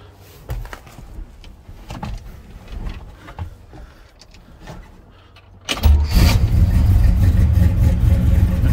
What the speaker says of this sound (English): Truck really runs good.